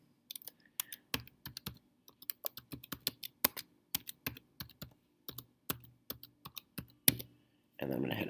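Fingers tapping out a password on a computer keyboard, a run of irregular crisp clicks with short pauses, close and clear, ending in a brief burst of rustling noise.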